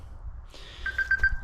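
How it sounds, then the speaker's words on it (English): A phone rings with an incoming call in a garage where camber bolts are being fitted, a short electronic ring tone repeating in quick chirps after a brief rising chime, over low background rumble. "Getting a phone call now."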